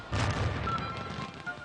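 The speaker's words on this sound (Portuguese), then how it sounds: "navios ingleses fizeram soar uma salva de tiros de canhão" Cannon salute fired by English warships at a bay entrance, heard as a deep, loud rumbling boom that swells at once and rolls on without a break, with a smaller thump near the end.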